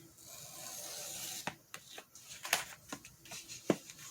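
A paper trimmer with a dull blade slices paper for a paper dress, a soft scraping rub followed by a scatter of faint clicks and snaps as the cut ends and the sheet tears slightly.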